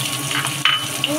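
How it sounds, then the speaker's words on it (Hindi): Curry leaves crackling in hot oil, a short burst of loud, bright sizzle with a sharp spitting pop. "और करी लीव्स डाल देंगे।"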